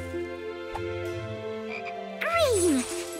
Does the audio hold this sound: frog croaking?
yes